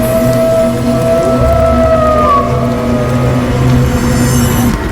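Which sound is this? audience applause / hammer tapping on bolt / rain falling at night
rain falling at night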